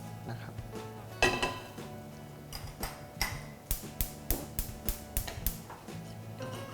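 A utensil mixing a seafood stew with fried sea bass and mixed vegetables in a pot knocks against the metal in a steady run of about a dozen close, rhythmic clinks.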